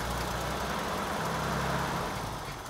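A BMW E30 Touring's six-cylinder engine idles close by with a smooth, steady low rumble and a faint mechanical ticking, heard alone without any talking.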